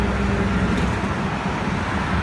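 Dense traffic rumble from cars and trucks on a road beside a bridge, a constant loud wash of engine and tyre noise with no talking.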